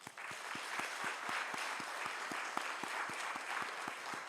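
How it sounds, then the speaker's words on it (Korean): Congregation applauding in a church to congratulate a minister newly installed as denomination general assembly moderator; steady, dense clapping with distinct low thumps, sustained evenly throughout at moderate distance, no talk over it. "우리 목사님께 뜨거운 박수로 축하해 주시기 바랍니다"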